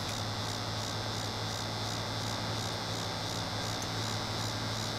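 A bee house in the Farming Simulator 22 video game gives off a continuous, even insect buzz with a steady drone and a faint pulsing shimmer, close and unbroken, with no talking.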